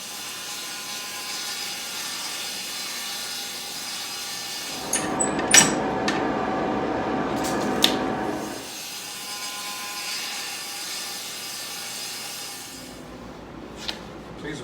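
A saw trims a thin 1/16-inch strip off the edge of a 3/4-inch wooden panel for a sideboard door. One loud cut of about four seconds rises out of a quiet shop, with a few sharp knocks afterward.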